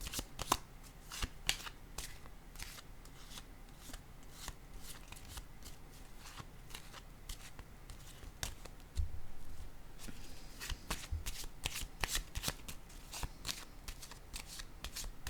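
Tarot cards are shuffled in quick, crisp riffling bursts and then laid down with soft taps, close up and fairly quiet, with no voices.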